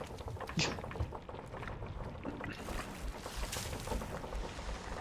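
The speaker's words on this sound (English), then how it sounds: "These waves get so tall you can't walk up the stairs." Stormy sea water sloshing and crashing against a wooden ship in the pirate game Sea of Thieves, a steady rushing wash with occasional creaks, heard close under players talking.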